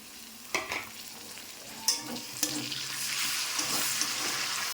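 Onions and tomato fry for a chicken curry, a sharp sizzle that swells as ingredients hit the hot pan, with a few distinct clacks and scrapes of stirring and no talking.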